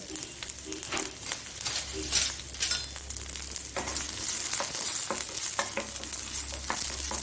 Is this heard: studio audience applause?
no